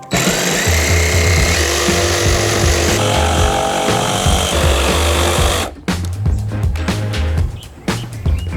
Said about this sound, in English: a jigsaw I think is a little bit more manageable